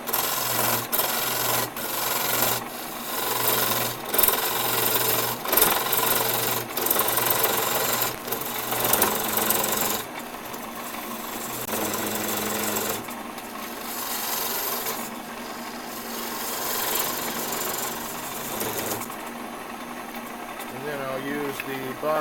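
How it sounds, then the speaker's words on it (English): A box scraper cuts into wood spinning on a woodturning lathe, a steady rough scraping and rasping over the lathe's hum, changing texture partway through, with a voice talking over it. "Use the box scraper for that."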